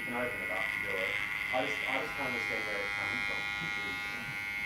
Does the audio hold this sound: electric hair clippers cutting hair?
yes